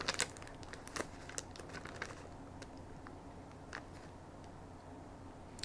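Sticker sheets are shuffled and sorted in a crafting setting, producing light crinkling and paper rustles, strongest at the start and then fading into sparse ticks over a steady background hum.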